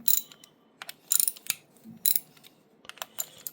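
Ratchet working loose the oil pump bolts on a Harley-Davidson Twin Cam engine, heard as several short bursts of bright metallic clicking separated by pauses, close up and with no talk.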